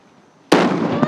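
A Sivakasi firecracker goes off with a sudden loud bang after near silence, followed by a dense crackling and hissing burst that lingers to the end with a second small pop.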